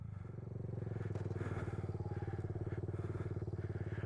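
A small Kawasaki Z125 Pro motorcycle engine idles steadily up close, its fast even putter running without a break the whole time.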